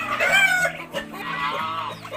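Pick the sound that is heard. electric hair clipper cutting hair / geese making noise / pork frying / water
geese making noise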